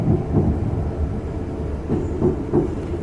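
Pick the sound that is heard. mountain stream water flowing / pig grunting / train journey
train journey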